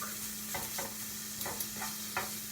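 Bits of ribeye frying in a hot pan until crispy, a steady sizzle broken by several soft scraping stirs at irregular intervals, close and moderately loud with no talking.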